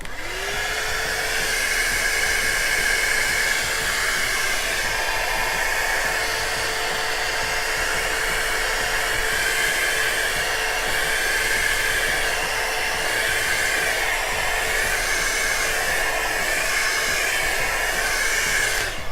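A heat tool blows hot air over an acrylic paint pour in a dirty flip cup, a loud steady whooshing roar with a faint whine, running unbroken for the whole stretch with no voices.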